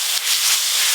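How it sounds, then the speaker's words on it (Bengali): Onion, ginger and garlic paste frying in a pan, a brief, loud, continuous sizzling hiss with no talk. "পেঁয়াজ আদা রসুন ভালো করে ভাজা ভাজা হয়ে গেছে"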